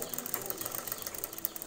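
Fast, even whirring and rattling of a sewing machine stitching a blouse back neck design along the top side, continuous close-up mechanical chatter for a short burst.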